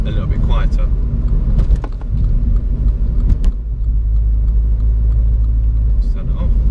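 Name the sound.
Mini John Cooper Works Challenge engine, quieter road mode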